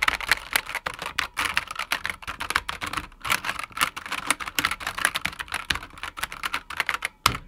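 Rapid typing on a SIGNO KB-748 waterproof IP68 keyboard: a close, steady stream of quick key clicks with brief pauses, heard alone with no voices.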